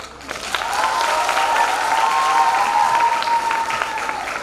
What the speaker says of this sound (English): So let's give a huge round of applause for him.